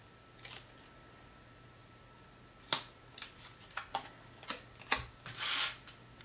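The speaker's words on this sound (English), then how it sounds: "Take the backing off of that tape." Tape backing being peeled off a strip of tape while making a Super Dad Hershey bar craft, heard as a series of short crisp crackles and rips, close and fairly quiet, with no talking.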